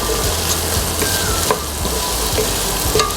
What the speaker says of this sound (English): Our veggies are now sauteed